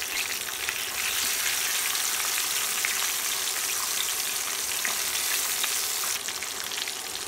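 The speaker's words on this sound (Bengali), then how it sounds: "এখানে 100 গ্রাম রসুনের কোয়া নিয়েছি। রসুনের কোয়াগুলো দিয়ে দিলাম।" Garlic cloves fry with spices in hot oil for a drumstick pickle, giving a bright, dense, continuous sizzle, close and even throughout with faint spatters and no voices.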